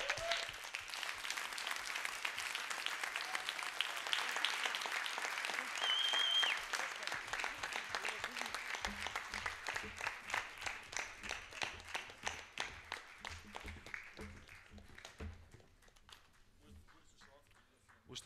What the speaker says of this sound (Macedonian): Уште еден огромен аплауз сега сакам да слушнам за PMG.